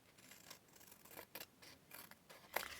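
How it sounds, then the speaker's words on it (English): Scissors snip through paper around a cut-out shape for a junk journal craft page, several quiet, close, irregular cuts with a sharper snip near the end. "Then I cut round here."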